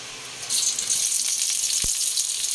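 Onions sauté in hot oil for tofu sisig, a bright steady sizzle that swells after a quiet start and holds close, with one soft knock from the pan.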